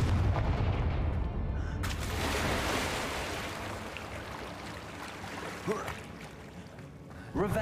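A Confringo blasting spell from the Hogwarts Legacy video game hits with a heavy booming explosion at the start, followed by a rumbling, fading blast tail and smaller crackling impacts.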